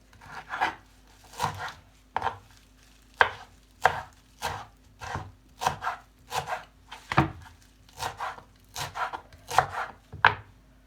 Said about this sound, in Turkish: Maydanozlarımızı da ince ince kıyıyoruz.